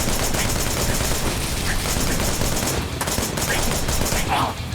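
Sustained automatic gunfire from a magazine being emptied at an enemy in the action game Wanted: Dead, a dense continuous rattle of rapid shots with game noise layered over it.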